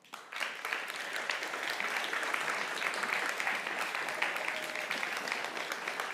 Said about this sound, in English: they definitely deserve a round of applause because they've been working very, very hard.